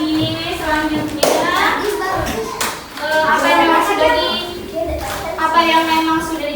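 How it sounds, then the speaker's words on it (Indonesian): Pupils in an Indonesian classroom clapping hands for a classmate, a few bursts of sharp clapping with children's voices and chatter running throughout. "tepuk tangan untuk Hadi sudah menunjukkan"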